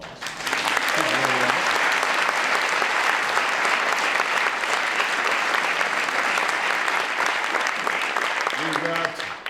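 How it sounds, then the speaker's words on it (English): A crowd at a presidential speech breaks into loud, sustained applause lasting several seconds, with a voice speaking briefly just before and as the clapping fades. "You can give her a round of applause."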